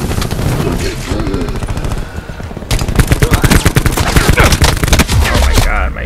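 Loud, rapid automatic gunfire during a Call of Duty Black Ops 4 team deathmatch, with dense bursts of shots and a short lull before heavier firing resumes, game sounds mixed in.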